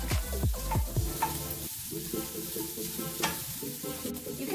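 Meat for Portuguese meat bread sautés in an oily pan, with a constant sizzle and several rhythmic scraping stirs of a utensil against the pan, close and moderately loud.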